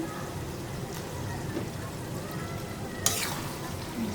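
Potatoes and freshwater eel (baim fish) frying and being stirred in a pan for a curry with gourd, a steady close sizzle with stirring and one sharp clatter near the end, while someone talks faintly.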